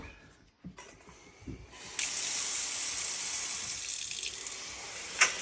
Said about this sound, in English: So wash your rice